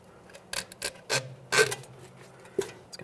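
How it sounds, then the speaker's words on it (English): Rubber bellow boot sliding and rubbing over the inner tie rod end of a 2009-2014 Nissan Maxima, a few short raspy scrapes with pauses between, close and fairly quiet. "Let's start sliding this over the inner tie rod end."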